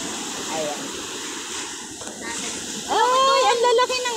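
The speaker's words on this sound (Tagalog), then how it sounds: "Ay, ang lalaki ng alon." Loud rushing surf of big waves breaking and churning, a continuous roar with a voice exclaiming over it near the end.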